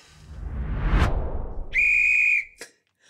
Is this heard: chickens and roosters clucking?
no